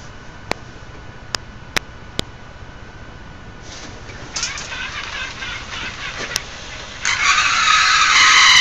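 A small fischertechnik model vehicle run from a TXT controller, heard as a few sharp clicks followed by a thin whirring motor that builds and turns to a louder steady buzz near the end, close by with no talking.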